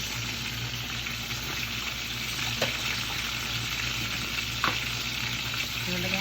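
Tabayag and sardines sizzle in a pan, a steady close frying hiss with a couple of brief stirring scrapes and no talking.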